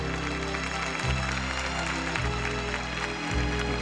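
An audience at a 1996 Criança Esperança televised charity show gives sustained, dense applause during an award presentation, steady and loud throughout.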